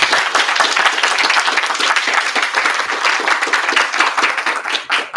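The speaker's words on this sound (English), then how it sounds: "Give a big round of applause." Loud audience applause at a 2024 student leadership debate in Blanchardstown, a close, dense and steady roar of many hands clapping for about five seconds, tapering slightly at the end.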